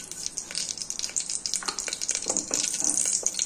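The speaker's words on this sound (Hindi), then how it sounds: "तेल गरम हो गया है तो थोड़ी सी सरसों में डाल देती हूँ।" Mustard seeds sizzle and crackle in hot refined oil inside a pressure cooker, a close, continuous hiss with quick popping bursts that grows slightly louder.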